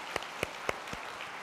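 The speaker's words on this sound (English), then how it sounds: "In the room here, give these guys a round of applause." A few sharp, separate claps at an evenly spaced rhythm, quiet and brief, from an audience applauding military veterans in the room at a sales event.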